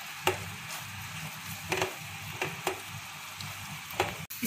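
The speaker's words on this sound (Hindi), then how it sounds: "पाइनएप्पल हमारा यहाँ पे पकने लगा है" Pineapple cooking in a pan over a low flame, a soft steady sizzle with occasional sharper clicks and taps from stirring, quiet and close with no talking.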